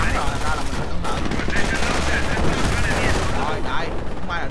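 Dense machine gun fire from a World War II real-time strategy game battle at a river crossing, sustained rapid bursts mixed with gunshots and battle noise, loud and continuous throughout.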